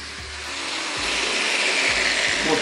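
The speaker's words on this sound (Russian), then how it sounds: "режем не по самой отметке, а так, чтобы отметка оставалась" A cutting disc grinds through a notched tile trowel blank, a harsh broadband whine that swells and holds steady for a few seconds, loud and close with no talk.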